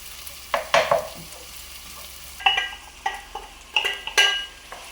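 Tomatoes added to fried onions in a home kitchen pan: scattered spoon scrapes and clinks against the pan over a soft background, with several sharp stirring strokes in quick succession.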